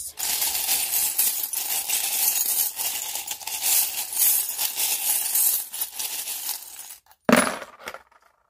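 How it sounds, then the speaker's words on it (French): Tarot cards and small charms are drawn and handled: steady close rustling with light clinks for about seven seconds, a brief pause, then a sharp, loud shuffle-and-clatter burst near the end. No one speaks. "je vais commencer par tirer un arcane majeur du tarot et les charms"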